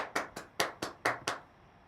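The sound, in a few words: applause welcoming a speaker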